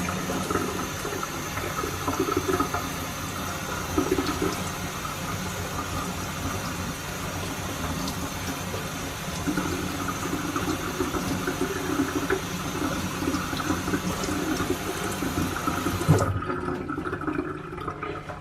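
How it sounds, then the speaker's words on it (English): Tap water runs steadily while plants are rinsed for a bioactive crested gecko terrarium, a continuous close hiss and splash that cuts off near the end. "Water running nice and cold."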